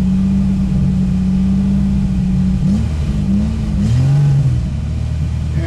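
A 3.1L V6 with Megasquirt fuel injection, swapped into a 1973 MGB GT, idles loudly and close, then blips its revs up and down several times before settling back to idle.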